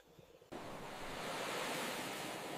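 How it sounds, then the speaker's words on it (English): Night ocean waves wash onto an island shore, a faint low rumble that swells into a steady broad rushing surf after a quiet start. "The ocean waves hit the Skull Island shore at night, under the light of the stars today."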